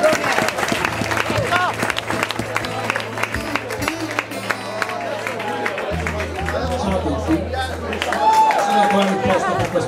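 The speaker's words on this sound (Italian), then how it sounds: "Fuori vi chiediamo un grande applauso." Applause from an audience at a rock show at a House of Rock venue, a crowd clapping and chattering steadily with talk and a low hum running underneath, the sound dense and fairly loud throughout.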